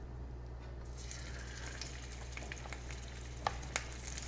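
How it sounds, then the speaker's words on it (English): Steady low sizzle of large beef pieces searing in a hot frying pan, with occasional light clinks and pops over a constant background hum. "So I'm going to put beef in a frying pan and"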